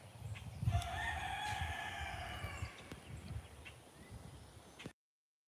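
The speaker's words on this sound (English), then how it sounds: "Oh, listen at my chicken." A rooster crows at a home in Georgia, a clear, drawn-out cock-a-doodle-doo near the start followed by softer clucks and faint background noise.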